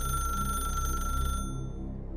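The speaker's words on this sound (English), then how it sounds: "a shrill, mechanical ring that echoed through the rooms" Shrill mechanical ring of a rotary telephone in a horror story setting, a steady loud metallic ringing that holds and then thins out near the end, heard alone.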